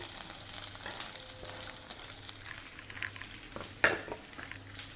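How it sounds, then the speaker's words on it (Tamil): Onions frying in hot oil with fennel seeds and curry leaves for a bachelor-style Kerala chicken curry, a steady soft sizzle with a stir or utensil knock near the end. "பொரிஞ்ச உடனே நம்ம வெங்காயம் போட்டுக்கோம்"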